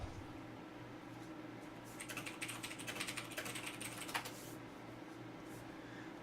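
Soft, close keyboard typing in a quiet room, a short flurry of quick key taps in the middle over a steady low hum.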